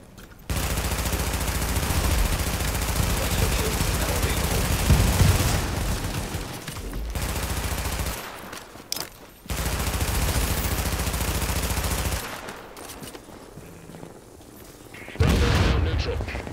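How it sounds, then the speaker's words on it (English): Sustained gunfire and explosions in The Division video game, a dense, loud barrage that runs for several seconds, breaks off twice briefly, then dies down to quieter fighting before a final loud burst near the end. "Fortification at Charlie is taking fire."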